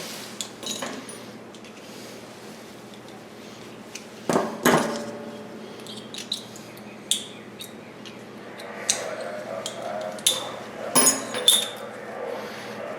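A bolt carrier group from a Sig MCX Spear 300 Blackout rifle is taken apart to pull out the firing pin. Quiet metallic clicks and taps come in scattered bursts, with a sharper clack near the middle and a cluster of small clinks toward the end.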